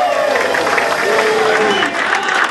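An audience at the Magic Castle applauds and cheers a magician's entrance, producing a steady, loud roar of clapping with some voices over it.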